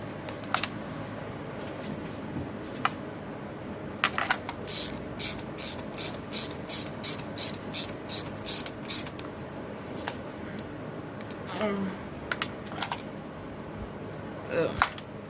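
A ratchet clicks in quick, even strokes as a part is snugged down during a tune-up on a 2007 Chevrolet Cobalt. The close, crisp ratcheting runs through the middle of the stretch over a steady background hum.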